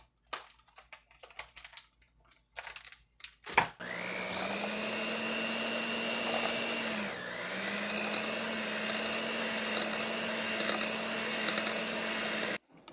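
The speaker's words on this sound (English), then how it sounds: "I'm going to use the electric mixer and mix this up" An electric mixer beats cake batter in a home kitchen, a loud steady whine that runs about nine seconds and dips briefly in pitch partway through. Clatter and bowl handling come before it starts, with no talking.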